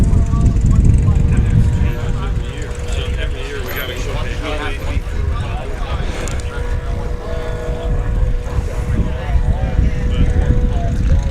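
A Husky STOL airplane at a Sun 'n Fun short-takeoff demonstration, engine droning steadily and fairly loud through the takeoff roll with a tailwind, under continuous announcer commentary and crowd noise.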